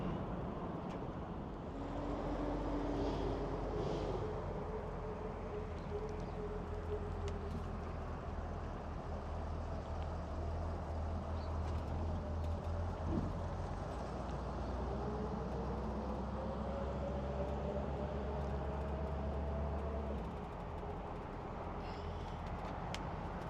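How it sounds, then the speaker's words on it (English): A 1964 Ford Mustang Convertible cruises down the freeway, its steady engine drone and low rumble running continuously under wind and road noise, with a few brief tonal shifts as the speed changes. "I hope you enjoyed this short drive down the freeway, so you got a good chance to hear it and run and drive."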